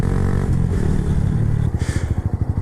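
A Honda Grom motorcycle revs hard during a wheelie, its loud close engine roaring steadily before breaking into a rapid pulsing chug as the throttle eases.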